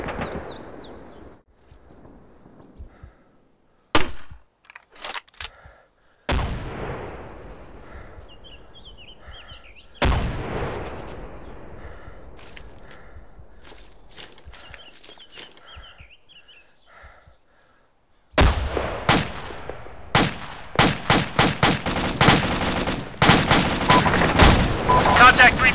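M203 grenade launcher fire and gunfire in the Arma 2 video game, with scattered single shots and thumps early and then a dense rapid fusillade of cracks near the end, loud and close.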